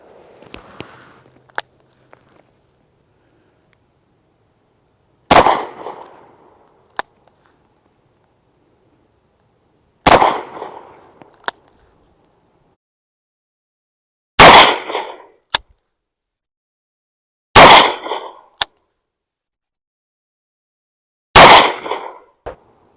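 Six heavy shots from a Taurus Raging Hunter .460 S&W Magnum revolver are fired outdoors. Each is a sharp, very loud crack with a short decaying boom, spaced several seconds apart with quiet gaps and faint clicks between.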